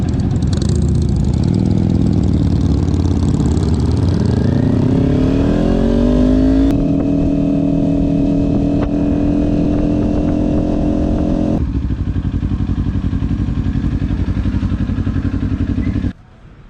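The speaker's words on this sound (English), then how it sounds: "I'm on my Ninja 400 and I'm riding with two Harley Davidsons." A Kawasaki Ninja 400 riding alongside two Harley-Davidson Fat Bob 103s, one a 2017, with loud, close engine drone rising in pitch as the bikes accelerate, then holding a steady cruising tone before cutting off abruptly.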